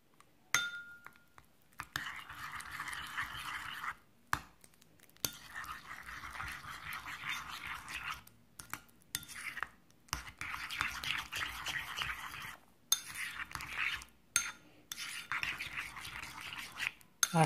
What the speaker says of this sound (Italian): Adesso andrò ad unire qualche goccia di tabasco e poi mescolo tutto.